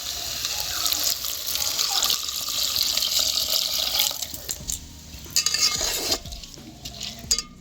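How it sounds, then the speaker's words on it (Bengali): Water pours steadily into a pot of pea pulao with rice, splashing and hissing, followed by a few metal clinks and stirring knocks near the end. "এইবারে দিয়ে দেবো নুন, দিয়ে দেবো জল।"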